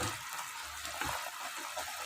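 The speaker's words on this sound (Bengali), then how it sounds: "আমি এর মধ্যে অল্প, খুব অল্প গরম জলটা তুলে দেবো।" A little hot water is poured into a simmering fish curry made with strained spice paste, giving a steady, close liquid pour and splash that lasts about two seconds with no talking.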